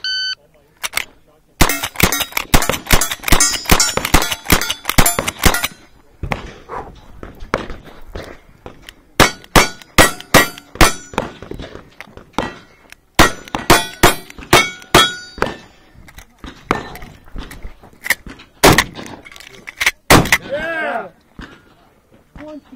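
Gunshots ring out in rapid strings at a cowboy action shooting stage, each crack followed by sharp metallic clangs of bullets striking steel targets, with brief pauses between volleys and a few voices nearby.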